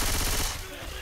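Rapid gunfire from the Left 4 Dead 2 game, played with a Resident Evil 6 mod on realistic mode, rattles loudly in a dense burst that eases off slightly toward the end.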